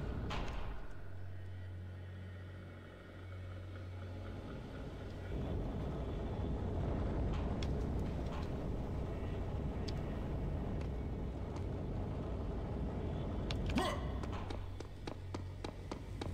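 A lift rising in the shooter game Serious Sam 3: BFE gives a steady low mechanical hum with a broad rumbling drone that swells partway through and holds, plus a few faint clicks, with no talking.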